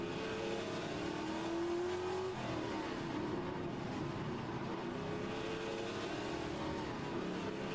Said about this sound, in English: Oh, there's a car coming up quickly on the inside.